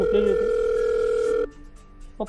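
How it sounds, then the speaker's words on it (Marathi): A phone call's ringing tone: a steady electronic tone held for over a second, then cutting off into quiet, with a faint click at the end. "मी आतमधून पप्पांच्या फोनवर फोन लावला"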